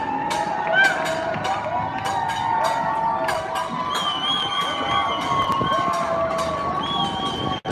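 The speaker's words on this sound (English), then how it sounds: "Many people are cheering beside us." Local residents crowd a Brooklyn street at night after curfew, cheering on Black Lives Matter protesters, a steady wash of shouts and whoops with scattered sharp claps and whistles, sustained and fairly loud throughout.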